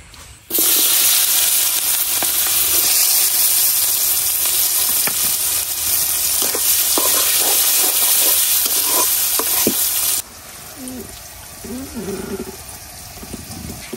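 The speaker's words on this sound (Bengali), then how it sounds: "এখন এই মাছ ভাজার তেলের মধ্যে দিয়ে দেন পেঁয়াজ আর রসুন" Chopped onion and garlic hit hot oil left over from frying fish, setting off a loud, dense sizzle with stirring scrapes that runs for about ten seconds before dropping to a quieter crackle.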